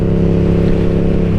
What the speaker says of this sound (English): if you're looking for like the loudest exhaust you can possibly throw on your bike, I think this would be a great exhaust